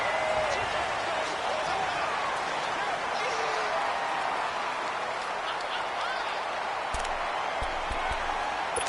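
A football stadium crowd gives a broad, continuous roar that holds steady throughout, with faint thuds near the end.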